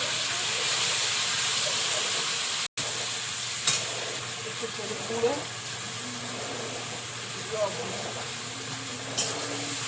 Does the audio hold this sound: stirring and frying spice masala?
yes